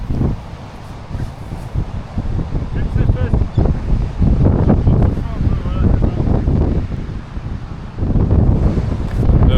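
Strong beach wind buffets the microphone with loud, continuous low rumbling and gusting roar, with surf noise underneath and voices talking beneath the blustery noise throughout.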